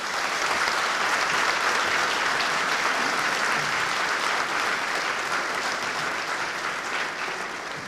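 An outdoor crowd at a veterans ceremony applauds the speakers, a dense sustained burst of clapping that holds steady for several seconds before easing slightly at the end.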